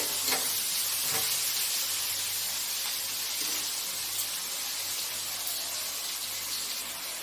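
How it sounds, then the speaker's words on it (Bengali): Prawns frying in a pan with onions for a jute leaf dish, a steady close sizzle with a few soft stirring scrapes near the start, no voices. "চিংড়ি মাছটা দিয়েও ভালো করে একটু ভেজে নিতে হবে"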